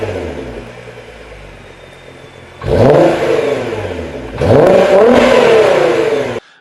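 A Nissan GT-R engine on its stock exhaust revs in two sharp bursts after a steady idle, each climbing to a loud, smooth whine before settling, with no one talking.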